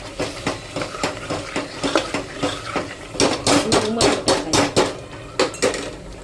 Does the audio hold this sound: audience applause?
no